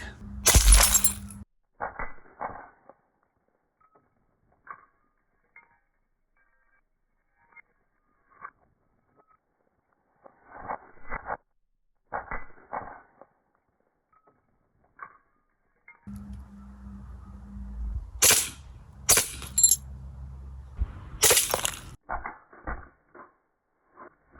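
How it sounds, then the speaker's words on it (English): A BB fired from a Beretta BB gun shattering a light bulb: sharp cracking bursts of breaking glass with brief clinks, separated by quiet stretches and softer mechanical clicks and handling sounds. "If you shoot with BB gun, Beretta, a bulb, it will destroy it."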